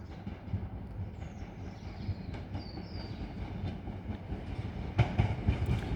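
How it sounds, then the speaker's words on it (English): A Southeastern electric train of class 375 units approaches Tonbridge station, a steady rolling rumble with rhythmic wheel clatter that grows louder and clunkier near the end. "on the approach now is the 1047 Southeastern service from London Charing Cross to Dover Priory"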